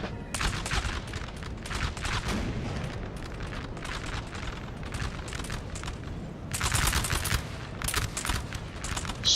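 Massed cannon and musket fire in the Napoleonic battle game Napoleon Total War 3 during an online battle: dense, continuous crackling volleys and booms, with a heavier burst of shots near the end, no talk.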